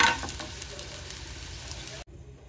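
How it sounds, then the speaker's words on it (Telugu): Ginger pieces fry in hot oil in a pan for homemade ginger pickle, giving a steady close sizzle that cuts off abruptly near the end. "ఈ అల్లం ముక్కలు వేగినాక వీటిని తీసేసుకుందాం."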